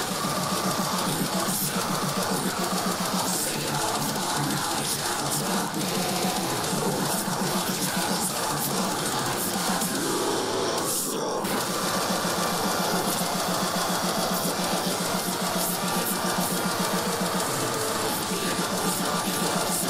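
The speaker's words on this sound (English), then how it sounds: "Drumming is fast. Great double bass blast beating." Fast double bass blast beat drumming drives a dense, loud metal song, the rapid kick pulses pounding continuously under distorted guitars and buried vocals.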